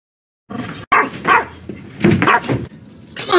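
A dog barks in several sharp bursts with whimpering yips between them, close and loud, no voices.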